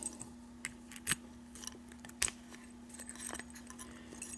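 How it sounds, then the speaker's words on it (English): A key scrapes and clicks in a Greenlee 702 padlock with an American 600 core, producing faint metallic jingles and several sharp ticks over a steady low hum, close and quiet. "The key seems to turn."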